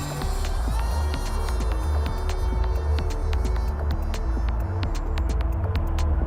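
A tiny electric motor whirs steadily on a small 3-channel Sparrow RC model plane, a constant close hum with a rhythmic throb and sharp intermittent ticks throughout.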